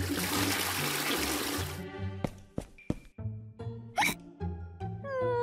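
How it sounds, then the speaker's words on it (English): A toilet flushes in a bathroom scene of a stop-motion paper cartoon: a loud, steady rushing of water lasts about two seconds and stops abruptly. Short tonal plucks and squeaky hiccup-like sounds follow. "Pinkie Pie refused to listen and went to the toilet"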